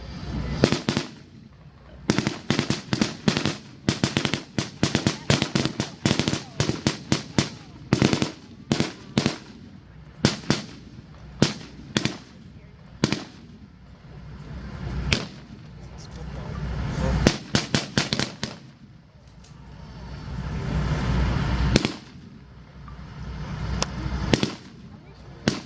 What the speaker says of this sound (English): You can hear that, the cadence of the firearms the VC are using. It's an AK-47